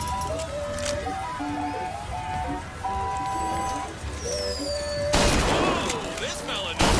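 A shotgun firing in the video game Bioshock Infinite, with two loud, harsh blasts close together near the end, following a stretch of tonal music and ambient game sound.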